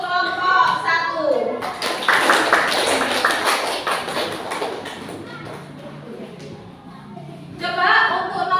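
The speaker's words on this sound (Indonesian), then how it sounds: "Tepuk tangan untuk kelompok 1." Schoolchildren in an elementary classroom break into a burst of applause for a group, a dense patter of clapping lasting several seconds, with a teacher's voice speaking before and after.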